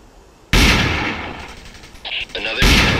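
Gunfire in the video game Ghost Recon: Desert Siege, a sudden loud blast followed by a ringing, rumbling tail, some brief chattering shots, then another heavy blast.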